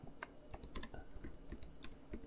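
Rapid typing on a computer keyboard, a steady run of light, close key clicks with no voices over them.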